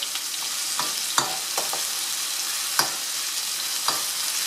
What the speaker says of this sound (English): And let it stir until our onion become little brown.